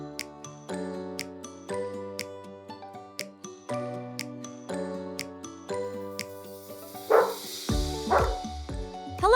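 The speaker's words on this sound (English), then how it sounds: "Hello, doggy." A cartoon farm dog barks in several short bow-wow bursts near the end, over a bright plucked-instrument melody playing throughout.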